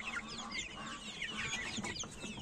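A flock of hens and roosters clucks continuously in a poultry pen, with many overlapping calls at close to moderate distance and a brief crowing note in the mix.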